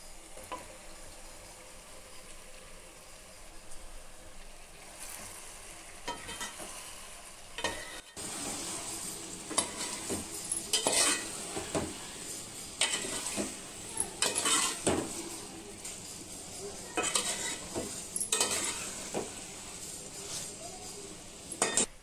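Raw bommidai fish pieces for an Andhra fish curry are stirred with a ladle in a frying pan. Soft sizzling is broken by repeated scraping and clinking strokes of the ladle against the pan, louder in the second half.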